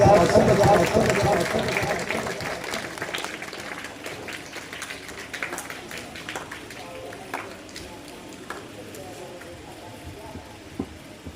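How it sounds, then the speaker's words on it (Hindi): A crowd claps at a teacher's retirement ceremony; the applause is loudest at the start and gradually thins and fades, with voices murmuring over it. "आपकी भरपूर तालियों में तशरीफ लाते हैं सरदार सरफराज अहमद फराज साहब।"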